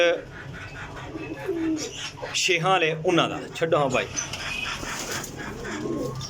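Pigeons coo in a low, rolling murmur beneath close, continuous male conversation.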